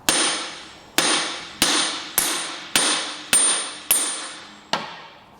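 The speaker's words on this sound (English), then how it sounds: "The beating in the pry bar wasn't going to help me out with this flywheel." A hammer strikes a pry bar eight times at an even pace against the flywheel of a Vespa GTS 300 engine, each loud metallic clang ringing out briefly before the next blow.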